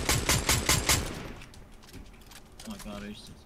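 Rapid automatic gunfire in a Fortnite ranked match rattles in quick bursts, then fades into quieter game ambience with distant shots and a faint tone.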